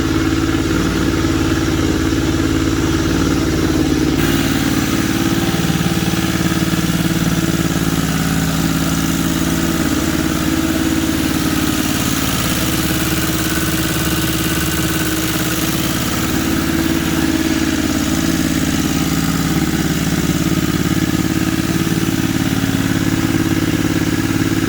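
A rebuilt turbo Wildcat engine runs continuously at a steady idle, a loud close-up mechanical drone with a brief change in tone shortly after it settles.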